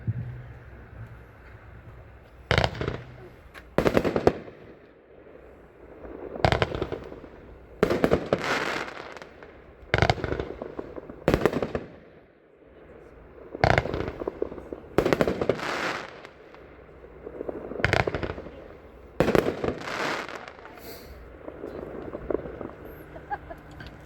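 All Jacked Up, a 25-shot consumer firework cake, firing a rapid series of sharp booms and crackles at a roughly steady rhythm, fairly close outdoors with light wind noise.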